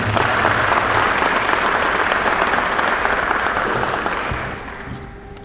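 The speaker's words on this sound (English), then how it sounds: "Let's give him a round of applause." Audience applause at a press conference on medical facilities updates, a dense, steady wash of clapping from a room full of people that holds loud for several seconds before tapering off at the end.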